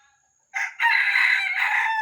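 A captive red junglefowl rooster gives one short, clear crow close by, starting after a brief silence and holding for about a second and a half.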